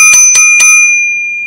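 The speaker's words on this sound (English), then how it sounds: "And that is the alarm sound all the drivers will receive so they do not miss any" A taxi app's booking alert for drivers, a bright electronic ringing, chimes three times in quick succession, then a high steady tone lingers and fades.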